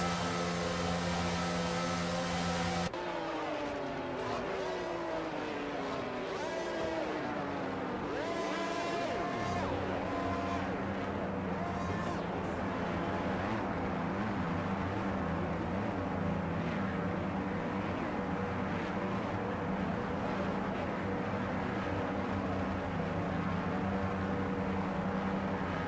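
Formula 1 cars on a formation lap in the F1 22 racing video game, a continuous droning engine whine with shifting pitch sweeps, steady and loud under faint game ambience, with a voice talking over it.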